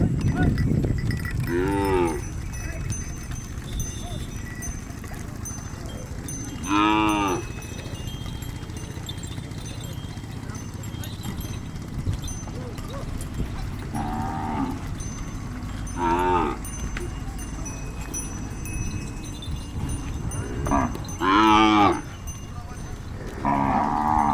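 Desi cows and calves on a village dairy farm give several separate harmonic moos spaced through the clip, some close and loud, others farther off, over steady farmyard background noise with a faint cowbell.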